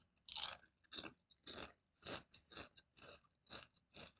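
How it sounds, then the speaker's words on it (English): Close, repeated crunchy chewing of food by one person, with about eight distinct bites and chews in a steady rhythm and no talking. "I'm sorry if the chewing's annoying you, but I'm hungry as hell."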